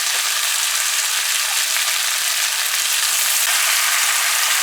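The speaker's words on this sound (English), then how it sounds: "We're gonna add our shrimp now." Shrimp hit a pan of frying curry for an eddo and drumstick dish, giving a loud, steady, bright sizzle that holds throughout with faint crackles and no talk.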